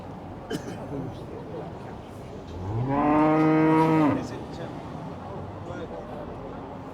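A single cow at a cattle championship at the Uppingham show gives one long, loud moo lasting about a second, with a crowd murmuring faintly around it.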